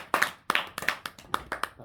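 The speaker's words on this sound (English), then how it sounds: "let's give her another round of applause" A small audience at a church open-mic service gives a short round of applause, with a handful of sharp, distinct claps in an uneven rhythm, close and alone with no talk over them.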